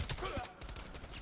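Rapid bursts of gunfire from Call of Duty Black Ops Cold War, a quick volley of several close shots within about a second, fairly faint.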